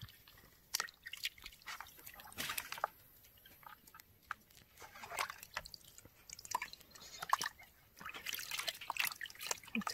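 Water drips and trickles in scattered bursts while a baby monkey is rinsed on a warm day, soft splashes and small wet clicks coming close and irregular.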